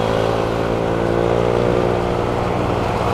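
A vehicle engine revs loud and close while overtaking, a steady strained roar holding throughout with no voices over it.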